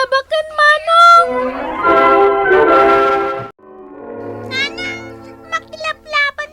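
A cat meows repeatedly in short, high cries, interleaved with drawn-out tonal wailing and bell-like ringing, while people talk in between.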